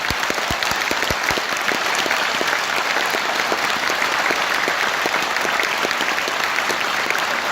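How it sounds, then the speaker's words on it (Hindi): A large hall of students keeps up sustained, loud applause for their parents, a thick even roar of many hands with crisp close claps punctuating it from start to finish. "ये तालियां कम नहीं होनी चाहिए माँ बाप के लिए।"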